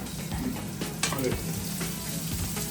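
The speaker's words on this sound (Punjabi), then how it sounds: "ਲਸਣ ਮਾੜਾ ਜਿਹਾ ਭੁੰਨਣ ਦੀ ਦੇਰ ਹੈ" Garlic frying in a hot pan for a Pola-style chilli chicken, giving a steady dense sizzle with occasional stirring clatter, close and continuous without talk.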